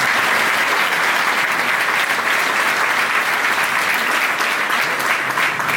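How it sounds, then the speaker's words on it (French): Audience applause at a municipal New Year's greetings ceremony in the town of Port-Saint-Louis, sustained loud clapping from a large crowd filling the room without pause. "on peut encore t'applaudir"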